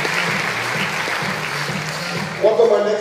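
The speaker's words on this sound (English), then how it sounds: "How about a round of applause" Studio audience applause for guests on a talk show, a steady wash of clapping throughout with a louder burst near the end, a voice briefly audible over it.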